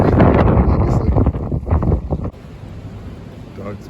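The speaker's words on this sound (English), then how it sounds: "Windy, obviously." Wind gusts across the microphone on the Hudson River shore at Croton Point Park, a heavy low roar that drops away abruptly midway to a quieter breezy hush.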